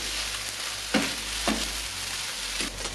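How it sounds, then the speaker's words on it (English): Tofu and mushrooms frying in a covered pan for a Korean tofu and vegetable dish give a steady, soft sizzle, broken by a few brief louder crackles or stirring clatters; no one speaks. "Now you can add your mushrooms, cover with a lid, and cook for 7 minutes."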